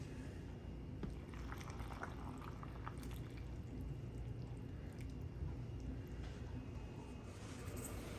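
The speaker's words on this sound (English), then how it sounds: "I'm going to fill my jars with hot water" Hot water poured into glass jars for black cherry compote, a steady full-bodied gush of liquid running continuously with no pauses, close and moderately loud.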